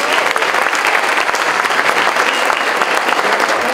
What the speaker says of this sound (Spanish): Un fuerte aplauso al doctor en ciencias Luis Alejandro Aguilera Galaviz